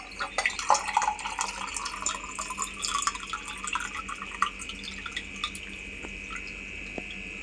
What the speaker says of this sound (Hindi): मटके का पानी।